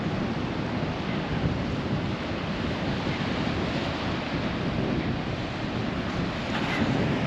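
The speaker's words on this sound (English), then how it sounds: "It's a bit windy" Strong coastal wind buffets the microphone over the steady roar of waves breaking on the shore, forming a continuous, dense wash of noise with no pauses.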